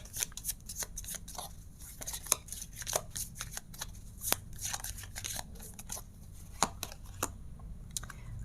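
Tarot cards are shuffled by hand in a quiet room, giving a string of crisp, close slaps and riffles in an uneven rhythm for several seconds.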